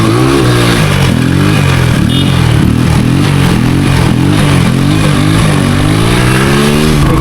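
A stunt motorcycle's engine revs hard again and again, loud and close, its pitch climbing and falling in repeated surges on a street.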